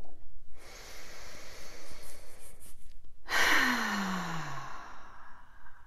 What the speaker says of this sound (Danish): bare lige tage et par gode, dybe, lange vejrtrækninger